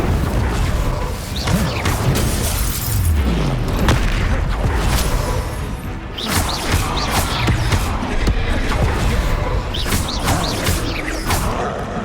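Fire spell effects from the Hogwarts Legacy video game, with booming blasts and crackling bursts repeating throughout amid dense, continuous combat noise and impacts.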